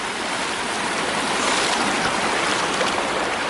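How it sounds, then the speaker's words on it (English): Mountain stream rushing loudly at a hiking crossing on the Pacific Crest Trail amid snowmelt, a steady close broadband roar of flowing water with no talking. "Alright, another stream crossing."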